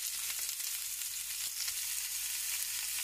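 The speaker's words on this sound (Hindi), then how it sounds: "बस हल्का सा फ्राई करना है।" A soft, continuous sizzle of something lightly frying in a pan while chicken spaghetti is made, steady and close with only faint stirring and no voices.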